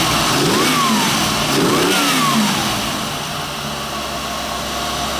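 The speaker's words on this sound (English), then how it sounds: "Rev it up here." A 1990 Chevrolet Corvette C4 with the L98 V8 engine revs up twice to a rising, roaring pitch, then settles back toward a steady idle. The engine runs loud and close, with no voices.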